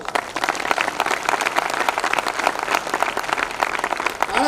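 Loud, dense applause from an audience welcoming a speaker at an NTC celebration function in Malkapur, steady clapping filling the space for the full few seconds without talk over it.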